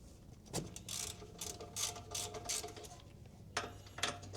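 Ratchet clicking as brake caliper bracket bolts are loosened on a project car during a brake job, a run of quick close-up ratcheting bursts followed by a final pair of clicks, with no talking.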